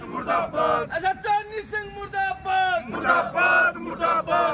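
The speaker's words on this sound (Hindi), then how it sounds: "आप देख सकते हैं नारेबाजी करते हुए प्रशासन और सरकार के खिलाफ, अधिकारियों के खिलाफ" Protesting electricity workers chant slogans against the administration and officials in a loud, close group. The voices rise and fall together in rhythmic shouted phrases.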